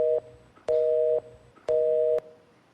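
A telephone busy tone after a call is cut off: loud, steady beeps sounding on and off in a regular rhythm, three clear pulses close on the line with nothing else heard.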